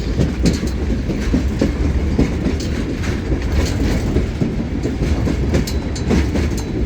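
Locomotive 81, built in 1917, hauls a train up a 2% grade, giving a loud, steady rumble with rhythmic clickety-clack of wheels over rail joints, heard close and alone without talk.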